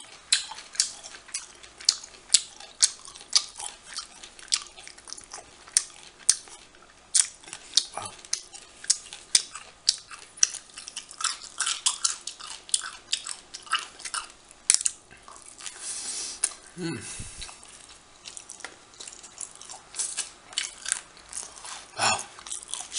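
Cucumber and trout sushi rolls are chewed close to the microphone, a run of soft wet crunches and quick clicking bites that come in uneven bursts with brief quiet gaps.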